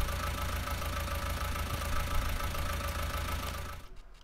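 A tractor engine idles in Farming Simulator 19, a steady low mechanical rumble with a faint rhythmic knock that holds evenly for about four seconds and then cuts off abruptly, with no talking.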